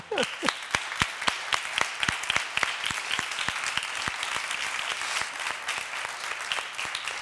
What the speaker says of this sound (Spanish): Yo pediría un aplauso a Albanea por lo que ha dicho y porque lo ha